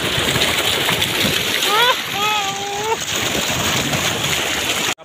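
Water splashes and pours steadily as a man bathes outdoors in a village garden, a close, continuous wash of splashing with a brief voice-like sound in the middle.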